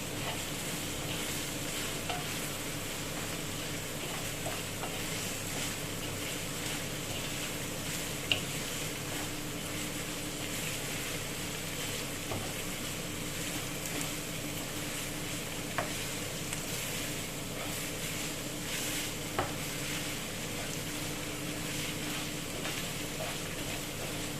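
Tomato paste and spices frying over softened onions in a pan, a steady close sizzle with a faint scrape of stirring running throughout, occasional small clicks, nobody talking.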